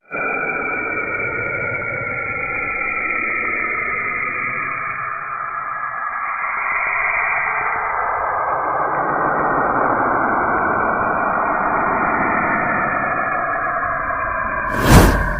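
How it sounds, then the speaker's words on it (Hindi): Sonified rendering of the planet Saturn: a steady, dense droning rumble with a smooth whooshing texture, constant in loudness throughout, ending in a brief louder swell. "सैटर्न यानी शनि ग्रह की आवाज़।"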